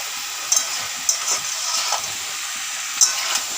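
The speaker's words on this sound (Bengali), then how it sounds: "ভালো করে মশলা দিয়ে নাড়ছি।" Spiced green plantain mixture with cumin powder, dry chili powder, meat masala and garam masala, stirred in a pan alongside fried potatoes, gives a steady sizzling hiss with a few sharp scraping clicks of the spoon.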